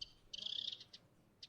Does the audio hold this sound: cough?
no